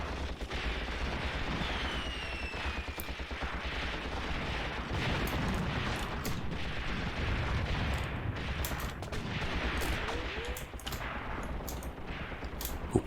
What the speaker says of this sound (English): No, he's still shooting at us.